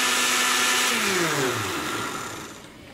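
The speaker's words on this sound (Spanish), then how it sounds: "Hay que darle un buen tiempo a la licuadora" A blender grinding rice for horchata whirs loudly and close, its motor pitch sliding downward and fading as the blade winds down.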